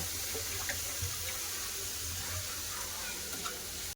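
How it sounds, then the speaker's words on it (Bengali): Mung dal is washed in water, a steady rushing, splashing wash with faint swirling, continuous and moderately close. "ডালটাকে ভালো করে ধুয়ে নেবো দু তিনবার করে ভালো করে ধুয়ে নেবো"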